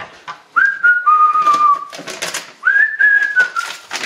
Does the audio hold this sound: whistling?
yes